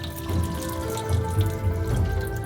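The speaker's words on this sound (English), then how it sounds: "You also need to rinse it with cold water." Cold tap water streams steadily onto cooked noodles in a colander in a kitchen sink, a continuous close splashing rush with no talk.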